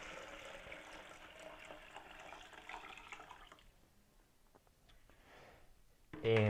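Hydroponic grow solution is poured into a small container in a hissing liquid stream that runs for several seconds and then stops. Soft drips follow, and a sharp bump sounds at the end.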